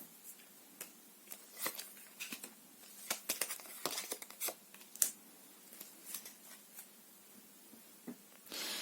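Playing cards shuffled and riffled during a tarot-style reading, giving bursts of crisp, close snapping flutters and soft slides in an irregular rhythm, heard alone without talk.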